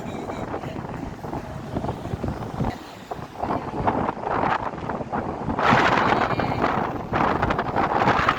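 Strong, gusty wind in Abu Dhabi buffets the microphone continuously, roaring louder in bursts, with faint voices now and then beneath it.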